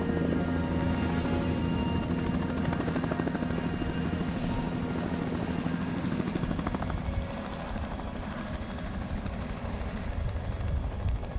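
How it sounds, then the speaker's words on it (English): Steady, loud helicopter rotor drone with a low thumping throb, continuing throughout with no voices; a helicopter flying during a Mexican gray wolf count-and-capture survey. "the helicopter will come in"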